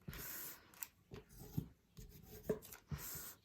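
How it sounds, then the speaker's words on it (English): Scissors handle rubbed and pressed along the creases of a folded paper fortune teller, a series of dry scraping strokes with short crisp bumps, close and quiet, no voices. "now I want to mash all those with the scissors handle to make sure I have really solid creases"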